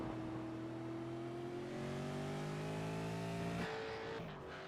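A V8 Supercar race car engine at the Indy Road Course, a steady high-pitched roar holding strong, rising in pitch as the car accelerates, then a sharp gear change and a dip near the end, with no talk.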